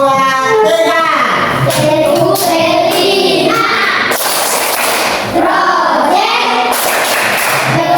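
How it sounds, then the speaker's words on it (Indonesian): A group in a school coaching session claps hands in bursts, mixed with children's voices and shouts, loud and close, with sharp thumps and chatter throughout. "ayo sedikitnya tepuk tangan"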